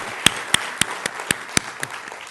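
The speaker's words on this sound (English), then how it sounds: "could you perhaps join me in a round of applause for the really good..." Sparse, evenly spaced handclaps from a small audience at an interview event, about eight sharp claps in slow rhythm over faint background, fading out toward the end.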